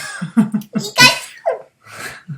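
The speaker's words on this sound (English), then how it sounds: "You sneeze like a Pikachu" A person gives a short, squeaky, high-pitched sneeze in a Pikachu-like voice, a couple of quick cartoonish bursts close to the mic, alone.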